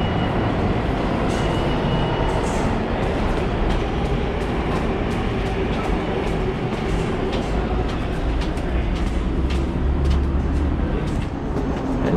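A loud, steady rumble and roar of a New York City subway train running at the Broadway–Lafayette/Bleecker Street station, with faint metallic clicks and squeals over the continuous din.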